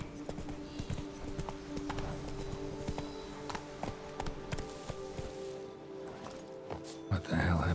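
Hooves of the horse Roach clatter in a quick, steady clip-clop in The Witcher 3, close and continuous over game ambience, with a louder burst of sound near the end.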